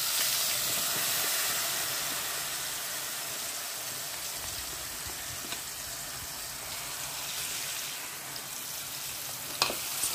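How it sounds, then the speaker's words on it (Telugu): Onion paste and green chillies frying in a pan for a fish curry, a soft continuous hiss and sizzle with occasional faint stirring clicks, steady and alone without talk. "ఈ విధంగా పచ్చిమిరపకాయలు వేసుకొని ఉల్లిపాయలు బాగా వేగేంత వరకు వేయించుకుందాం ఉల్లి ముద్ద"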